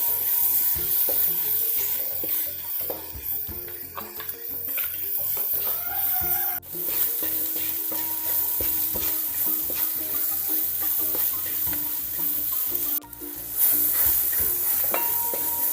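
Onions, green chillies and home-ground turmeric powder fry in a pan for Kerala pathila thoran, a steady close sizzle with frequent stirring clinks and scrapes throughout, no talking.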